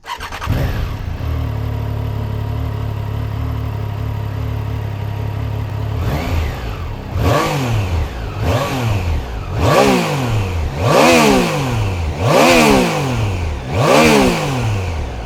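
A Triumph Trident 660 three-cylinder motorcycle engine idles with a deep rumble, then revs repeatedly, each throttle blip rising and falling in pitch, loud and close.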